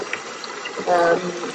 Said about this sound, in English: so just going to put a little bit of warm water